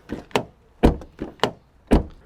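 The heavy tailgate of a Fiat Egea Cross swings down and shuts, giving a series of close, solid thunks and knocks, six distinct impacts in quick uneven succession.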